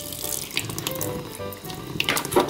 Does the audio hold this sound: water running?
yes